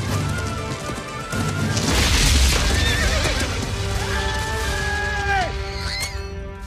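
A horse in Disney's animated Mulan whinnies loudly amid a battle scene, with heavy rumbling crashes and hoof clatter underneath and a second drawn-out neigh near the end, all up close and dramatic.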